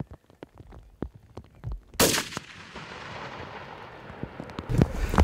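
A single loud, sharp hunting rifle shot fired at a roe deer cracks about two seconds in and rolls away in a long echoing decay, with faint clicks and rustles before it.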